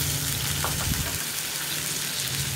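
Crushed ginger, onion and split green chilies frying in hot oil for a sardine fish curry, a dense continuous sizzle close up with faint stirring, no voices.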